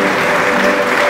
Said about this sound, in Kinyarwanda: tubakire tubaha amashyi